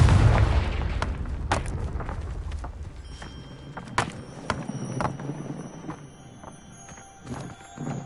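A Confringo blasting spell goes off in the Hogwarts Legacy video game: a deep booming burst at the start, then scattered sharp cracks and impacts over a low rumble that fades. There is no talking.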